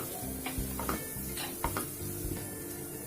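Samosa filling stirred in a pan on the stove, with spoon scrapes and soft sizzling that repeat steadily over low cooking noise; no one talks.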